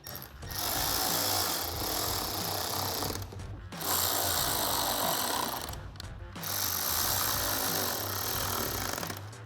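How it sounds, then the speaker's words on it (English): A power tool driving fender liner screws with a T15 torque socket on a 2019-2021 Silverado 1500 runs in three long, loud buzzing bursts, each lasting a few seconds with brief pauses between, close and steady with no talking. "Take a T15 torque socket to tighten those down."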